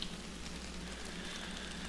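Steady, dense hiss of rainfall in a horror video game, a constant crackling patter with no breaks, soft and even throughout.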